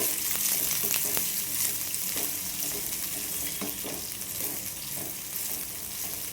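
Chopped onion fries in a pan with a continuous close sizzle, broken by scraping and clatter as it is stirred.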